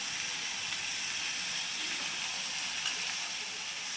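Mutton curry fries in a pan with turmeric, cumin and chili powder, giving a soft, even sizzle and hiss that stays steady with no speech.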